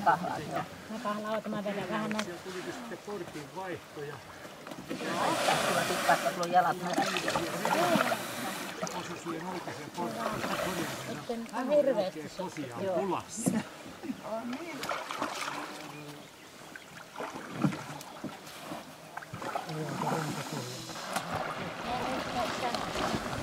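Canoes move along a river as water splashes and paddles dip, with wind buffeting the microphone and people talking over the watery rush throughout.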